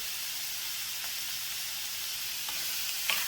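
Pork stir-frying with garlic and red chili in a hot pan gives a dense, steady sizzle, close and even, with a few faint scrapes of stirring near the end.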